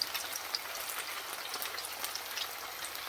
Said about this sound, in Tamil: இது சிக்கன் ஃப்ரை பண்ணும்போது நல்லா மீடியம் ஃப்ளேமில் வச்சு ஃப்ரை பண்ணுங்கள்